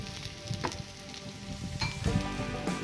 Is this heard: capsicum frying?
yes